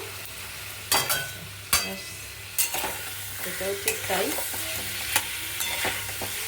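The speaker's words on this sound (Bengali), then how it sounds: "প্রথমেই নাড়িয়ে দিয়ে মশলাটা মাখিয়ে দিতে হবে" Fish pieces coated in spice paste are stirred in a wok over a low, steady sizzle, with sharp scraping strokes of the spatula at irregular intervals and a few brief spoken words.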